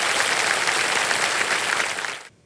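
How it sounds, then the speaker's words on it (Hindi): Studio audience applause on the KBC quiz show, a loud, dense and even wash of clapping that holds steady before cutting off abruptly near the end. "हाँ, ताली बज सकती है।"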